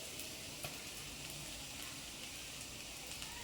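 Turmeric and chilli powder sizzle in hot oil for an eggplant kara kuzhambu, a steady close frying hiss with faint crackles and no voices.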